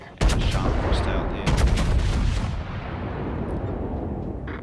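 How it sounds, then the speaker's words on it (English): Battleship Tirpitz fires a broadside in World of Warships, a loud, close boom that rolls out into a long, fading rumble, with a second heavy blast following about a second later. "So Tirpitz is opening up on the left-hand side, enemy battleships."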